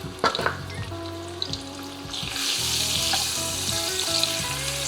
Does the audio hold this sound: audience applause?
no